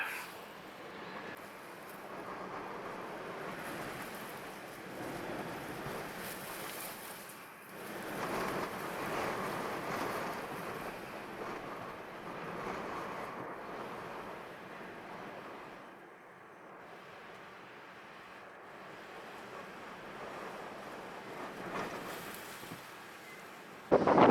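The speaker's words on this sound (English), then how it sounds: "Wind is insane." A gale of around 60 knots roars across the microphone at Jeffreys Bay, with big ocean surf of about 8 m swell rumbling beneath it as a steady, buffeting wash of noise with no voices.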